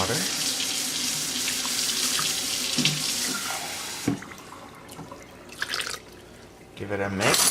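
Water runs steadily from a tap into a pot, a bright continuous splashing that cuts off, followed by short clinks and brief bursts of flow.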